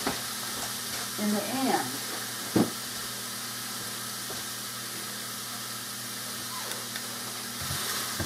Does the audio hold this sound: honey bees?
no